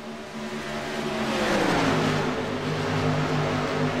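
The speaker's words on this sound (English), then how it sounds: "Now we have a 4-truck pull away." Racing trucks accelerating hard down the track in a close pack, a loud sustained engine roar that swells and rises in pitch as they pull away together.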